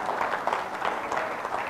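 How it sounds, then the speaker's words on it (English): A conference audience applauds a speaker at a principals' conference, a steady wash of many hands clapping at even volume throughout, with no voices over it. "You're clapping for him"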